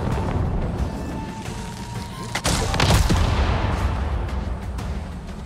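Gunfire in Avatar Frontiers of Pandora comes as a loud burst of shots and booming impacts around the middle, set against a dense, noisy game soundscape.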